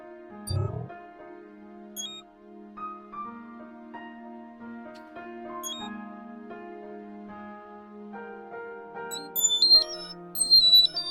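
Loud electronic beeping sounds over a steady drone of sustained tones, with sharper, higher repeated beeps clustering near the end; no one speaks.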